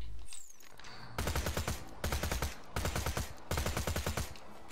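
A legendary submachine gun called the Slag fires in the Borderlands video game, ripping out three loud rapid bursts of automatic gunfire separated by short pauses, close and alone without talk.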